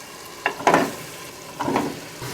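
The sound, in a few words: goat trotters added to sizzling fried tomato masala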